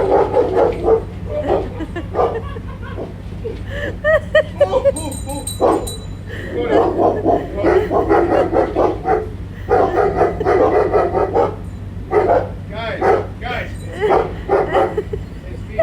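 Several dogs bark and yip at a person in a costume during Christmas festivities. The sharp barks come close and repeatedly over a low steady hum, with people talking throughout.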